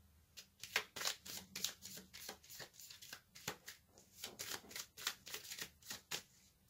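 Tarot cards shuffled and drawn by hand, a rapid run of crisp papery riffles and snaps repeating close up for several seconds, with no talking.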